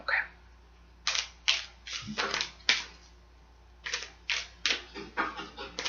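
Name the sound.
shuffling a deck of cards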